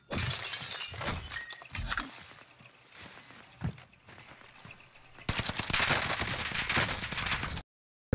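A KG M40 rifle fires in Call of Duty Warzone, sharp repeated shots cracking out in bursts, then a dense, continuous volley of loud gunfire near the end.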